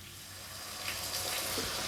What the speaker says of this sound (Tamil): நம்ம கொஞ்சமாக தண்ணி சேர்த்துக்க போகிறோம்